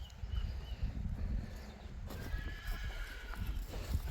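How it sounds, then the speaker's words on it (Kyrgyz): A two-day-old foal and its mare whinny and neigh up close, with hoof clip-clops on the ground and steady outdoor noise behind them. "2 күндүк кулун достор."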